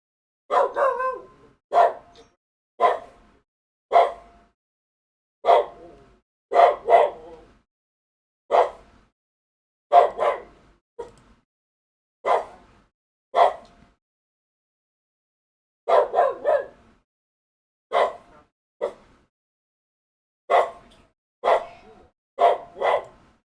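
A pet dog barks repeatedly nearby in a home during a Magic: The Gathering game session, with short single and double barks at irregular intervals and quiet gaps between them.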